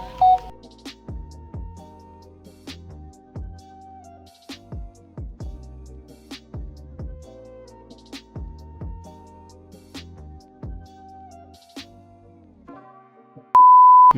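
Phone notification beeps from chat alerts sound repeatedly in a steady series of short clear tones over a low background, ending in a louder sustained tone with no talk.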